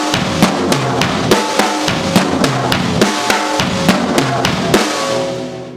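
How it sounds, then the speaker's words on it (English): Fast drum triplets roll around snare, toms and bass drum in an even repeating pattern, loud and close, with cymbal wash ringing underneath. "moves between the snare drum and the tom-toms and the bass drum like this"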